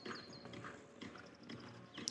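A show jumping gelding, an experienced Grand Prix horse at an outdoor Mexico City show, clip-clops with its hooves in a steady rhythm, moderately close under a low ambient hum of the arena.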